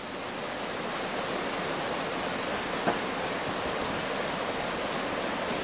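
A babbling brook in Costa Rica flows in a steady, close rush of water that stays even from start to finish, with one brief louder splash near the middle and no talking.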